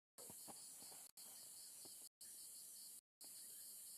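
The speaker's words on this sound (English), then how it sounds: "You can hear all the cicadas." Dense, shrill cicada chorus at night on an African safari, a constant high buzzing wall of sound broken by a few abrupt cuts, with faint lower rustles beneath.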